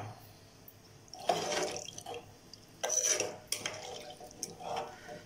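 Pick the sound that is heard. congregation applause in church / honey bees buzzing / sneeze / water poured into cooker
water poured into cooker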